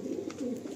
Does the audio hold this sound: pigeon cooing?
yes